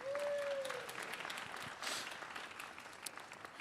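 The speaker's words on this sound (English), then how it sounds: "give them a round of applause" Audience applause at a conference spark talk, a dense wash of clapping from a crowd that swells, eases and rises again briefly, heard in a large room.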